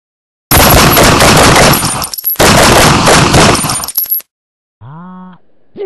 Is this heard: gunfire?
yes